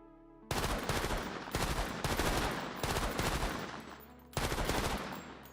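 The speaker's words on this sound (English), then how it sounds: "Let's try deploying our turret." A deployed automatic turret in Persist Online fires in long, dense bursts of rapid gunfire, loud and continuous with brief gaps between volleys over a steady game background.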